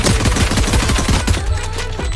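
Rapid automatic gunfire in the Valorant video game, a tight rhythmic string of loud, close shots running for about two seconds without pause.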